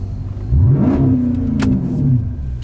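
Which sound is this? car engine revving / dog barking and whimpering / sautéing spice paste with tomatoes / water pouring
car engine revving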